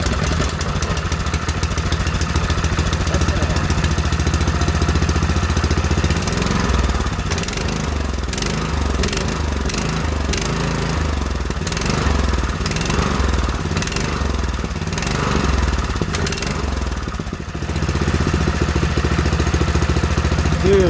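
Small gasoline engine on a homemade go-kart runs steadily and loudly up close, a raspy mower-like drone with uneven rhythmic chugging and clatter through the middle as the throttle shifts, continuous with no talk.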